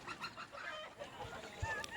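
A broody hen clucks softly and repeatedly on a farm where she is set to hatch turkey eggs, low murmuring calls close by under a faint background hiss.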